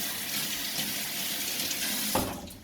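Tap water runs steadily into a sink while a vinyl record is being washed with washing-up liquid and a brush, a continuous close splashing flow that breaks off abruptly near the end.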